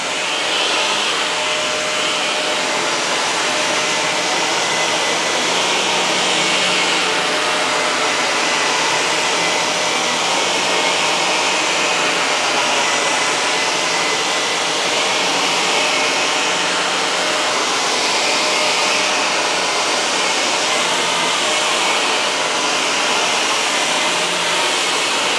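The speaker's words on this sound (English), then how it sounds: "The Shark seems like a pretty darn good vacuum for its price" Shark Navigator Zero-M upright vacuum cleaner running steadily, a loud, constant broadband roar with a high whine that stays even throughout and has no speech over it.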